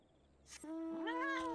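A cat creature meows in the Final Fantasy XIV video game, a single clear, drawn-out meow rising after a brief burst of noise, close and fairly loud.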